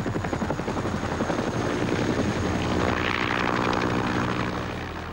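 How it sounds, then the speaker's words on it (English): A Huey helicopter flies close by, its rotor thumping in a steady rapid beat over a loud engine roar that swells slightly and then eases off. "The helicopter was the sound that the grunts hated the most and loved the most."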